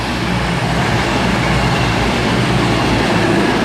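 A Class 221 CrossCountry diesel train on a Manchester Piccadilly to Bournemouth service passes through Eastleigh, making a loud, continuous rolling rumble and roar close by.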